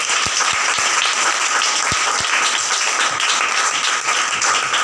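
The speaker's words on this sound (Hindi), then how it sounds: "कलाम के लिए एक बार जोरदार तालियां" Loud, dense applause from a congregation at a Christian religious gathering, sustained and even throughout, with a few sharper individual claps standing out near the start.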